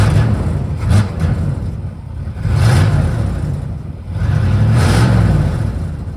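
A 1987 Chevrolet El Camino with headers and an exhaust leak runs nearby, its engine rumbling steadily and swelling in three distinct revs, with no talk over it.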